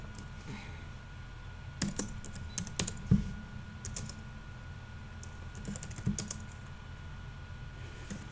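Typing on a computer keyboard, with scattered soft key clicks and a few firmer taps over a low steady background hum, fairly quiet and close.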